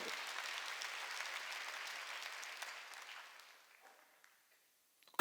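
A church congregation claps together for about three seconds, a dense burst of applause that fades out into near silence.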